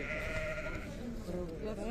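Sheep bleating at a livestock market, a drawn-out wavering bleat rising and falling at moderate distance, with a voice speaking briefly alongside.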